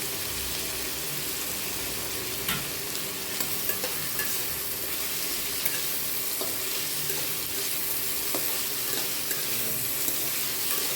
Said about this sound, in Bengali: কুচিয়ে রাখা টমেটো সব কিছু আরও একবার হালকা একটু ভেজে নেব